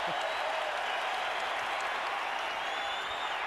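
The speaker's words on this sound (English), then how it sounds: "Oh, this crowd wanted to erupt so badly." A basketball arena crowd at a Mavericks–Lakers game roars and applauds in a dense, loud, sustained wash of cheering that holds steady throughout.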